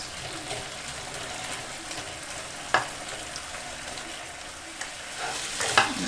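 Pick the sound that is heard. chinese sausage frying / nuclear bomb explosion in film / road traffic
chinese sausage frying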